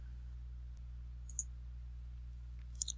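A few light computer mouse clicks, sharp and faint, two or three brief ticks spread over a few seconds above a steady low electrical hum.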